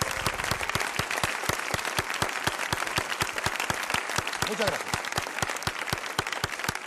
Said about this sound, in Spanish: Un aplauso para la señorita que nos tiene.